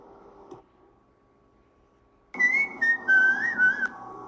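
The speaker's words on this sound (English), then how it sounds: "You seriously have to stop whistling while using the litter box." After a quiet stretch with a faint hum, someone whistles a short wavering tune in several bursts, close and clear.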